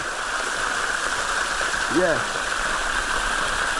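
Waterfall and stream water at Latille Waterfall & Garden rush in a steady, loud broadband roar throughout, with a brief voice cutting in near the middle.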